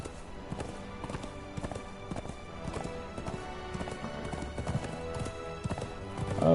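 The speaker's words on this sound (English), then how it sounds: "There's a baby horse right there." Baby horse hooves clip-clop in the video game Conan Exiles, a run of quick irregular steps close by over game ambience, with a faint whinny.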